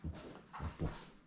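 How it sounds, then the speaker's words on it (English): A few short, muffled dog barks and whimpers in quick succession, sounding somewhat distant. "You can hear dogs in the background going."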